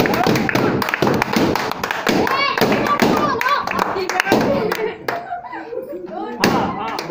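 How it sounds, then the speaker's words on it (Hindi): Guests clapping hands at a wedding anniversary celebration, a close, loud run of irregular claps and taps with people chattering and calling out throughout, thinning briefly near the end before another burst. "अरे ताली बजा लो"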